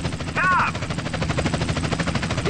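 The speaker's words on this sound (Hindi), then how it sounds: "हेलीकॉप्टर से भी फायरिंग हो रही है, इधर भी फायरिंग हो रही है।" A police helicopter fires on the player in GTA San Andreas during a chase, with a steady loud rotor drone, rapid gunfire and a brief siren-like wail near the start, all under continuous excited talking.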